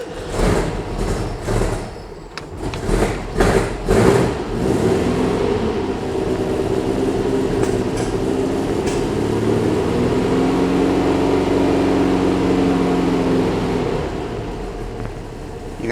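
A 1966 VW Beetle with a 1776cc engine cranks with several uneven bursts and catches, then runs close by in a steady rough idle with a rising, wavering drone.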